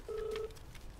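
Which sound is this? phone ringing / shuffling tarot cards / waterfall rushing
phone ringing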